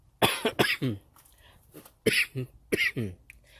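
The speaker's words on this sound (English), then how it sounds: "Excuse the coughing." A man working on the engine of an 1986 Nissan D21 pickup during a thermostat install coughs in several sharp, close bursts, with brief pauses and a throat-clearing between the fits.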